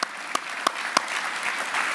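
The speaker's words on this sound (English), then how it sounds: "You can clap on that one right there." Applause from an audience, a dense steady patter of many hands clapping with a few louder nearby claps at the start.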